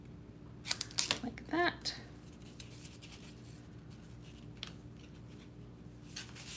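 Scissors snipping paper for a handmade card, a few close crisp cuts clustered together, followed by quiet handling while a voice speaks briefly.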